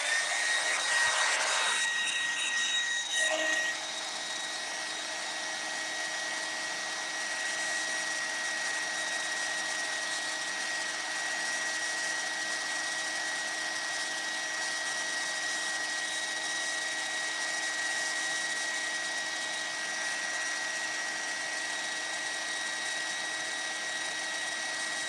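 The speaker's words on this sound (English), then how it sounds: "And then I'm going to take the hairdryer" A hair dryer blows steadily on a craft piece for about twenty-five seconds, a close, constant whirring roar with a brief shift in pitch near the start as it is moved.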